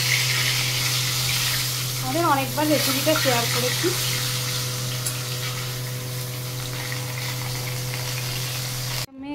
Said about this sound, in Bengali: মাছ ভাজা চলছে এখন।